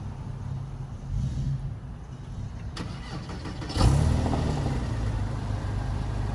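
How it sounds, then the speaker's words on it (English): A 2006 Porsche 911 engine cranks and catches near 4 seconds, then settles into a steady low idle after a quieter stretch of background rumble. "Car starts up."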